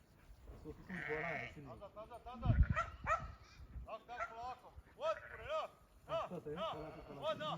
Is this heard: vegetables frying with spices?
no